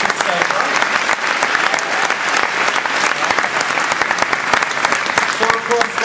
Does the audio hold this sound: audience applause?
yes